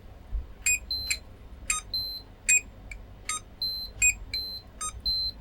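Repeated short electronic bleeps from a multimeter in continuity mode testing a normal diode and a Schottky diode, about a dozen quick tones in an irregular pattern, close and clear over a quiet background.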